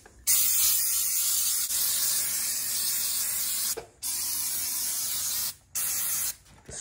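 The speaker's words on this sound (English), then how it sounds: "I got everything sprayed. Hopefully this will be some good degreaser." Cheap aerosol degreaser sprays onto the parts of a Mazda Miata, a loud, close hiss in long continuous blasts broken by a few short pauses.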